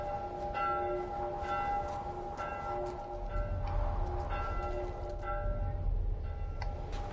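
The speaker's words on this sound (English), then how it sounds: "Bell's pretty loud." Loud church bell ringing out repeatedly in The Last of Us Part 1, steady tolling strikes over a low rumbling ambience with no talk.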